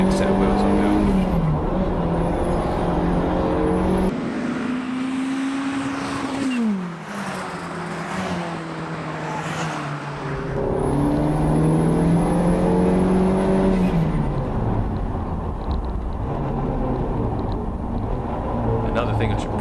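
Turbocharged car driving laps of a wet Brands Hatch circuit, loud sustained engine drone rising and falling through gear changes, with turbo flutter bursts and a voice speaking over it.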